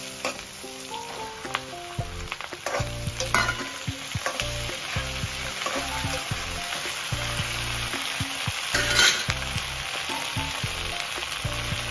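Sliced okra frying in hot oil in a pan, giving a continuous loud sizzling hiss throughout, broken by occasional soft stirring knocks, with no talking.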